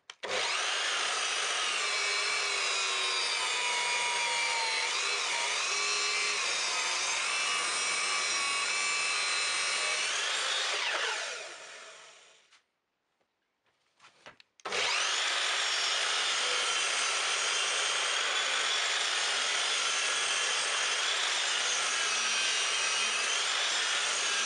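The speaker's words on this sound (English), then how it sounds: "get it over to the chop saw and cut it" A chop saw cuts wood for a display box in a workshop, giving a loud, steady whining cut of about twelve seconds. After a brief silent pause, a second similarly long cut follows.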